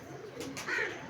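A pigeon gives soft, low cooing calls at close range, brief and faint, over quiet background noise.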